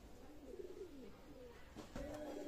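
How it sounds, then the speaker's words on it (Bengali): A pigeon of the Golalal (red-throat) line at a pigeon loft gives soft, low, close cooing notes, a short run of calls followed by a couple more steadier coos at the end, against a quiet background. "অসাধারণ কবুতর"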